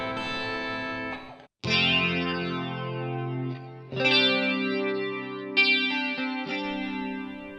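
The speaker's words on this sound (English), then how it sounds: "Here's a cool, unique sound, the Cloud Top Flange." Electric guitar run through the Cloud Top Flange preset in RealBand, a flanger pedal-and-amp effect chain, playing sustained chords that swell and sweep with shimmering, chorus-like modulation, three loud strums separated by brief gaps, no talking.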